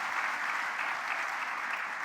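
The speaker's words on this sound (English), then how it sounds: "A big round of applause." Steady applause from a summit audience thanking a panel of speakers at an intergenerational dialogue, a dense even wash of clapping held throughout without talk.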